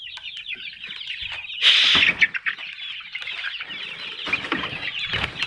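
Joper chickens, about 40 days old, cluck steadily in a farm coop, with one louder squawk or flutter midway; several birds are heard together at close range, no talking.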